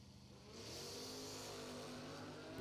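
Kawasaki ZX14 drag-racing motorcycles launch off the line, a steady loud engine roar that swells and rises in pitch after half a second and holds at full throttle.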